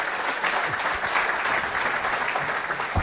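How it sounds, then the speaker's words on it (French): Continuous applause from an audience at an award ceremony, a thick steady patter of many hands clapping at moderate loudness without a break. "on va vous applaudir"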